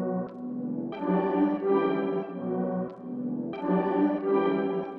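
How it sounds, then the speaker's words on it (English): Halftime trap sample built in FL Studio, a slowed, layered melodic loop with a rolling low end that repeats in roughly one-second phrases, dense and steady with no voices. "I used halftime in certain sections of the song so it sounds like this."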